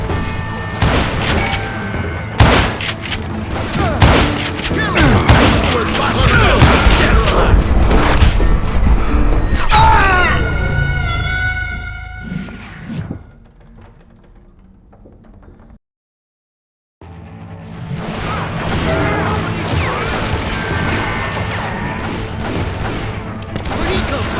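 Gunfire from a crowd of deputized shooters in the Wild West shooting game Call of Juarez Gunslinger, with dense overlapping shots and booms and a brief silent gap partway through before the loud battle resumes.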